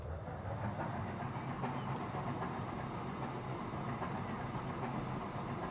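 Trains run in the Transport Fever 2 game, a soft, continuous rumble of rolling rail cars with faint clickety-clack, quiet and steady throughout.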